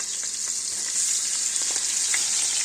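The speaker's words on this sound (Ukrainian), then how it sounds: "ложу курочку, обсмажую її" Chicken pieces frying in a pan with garlic, a bright continuous sizzle with occasional soft crackles and light stirring clicks, close and steady throughout.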